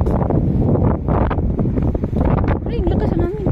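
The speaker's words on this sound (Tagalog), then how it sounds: "Biglang lumakas ang hangin dito." A strong, sudden gust of wind buffets an outdoor microphone during a walk, roaring loud and continuous across the whole stretch, with a voice talking underneath the rumble.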